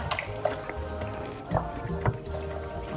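Spices, herbs and salt are stirred together in a pot for Ghanaian tsofi, making soft wet squelching and scraping strokes with a few louder knocks, close and continuous.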